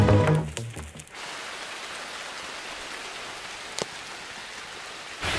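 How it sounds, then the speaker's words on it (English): Heavy rain pouring in a steady, dense hiss, heard from a cave in the wild, after a brief rustle at the start, with one sharp knock partway through. "It's raining so hard"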